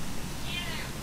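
A pet cat gives one short, high meow indoors, partly buried under a raised human voice.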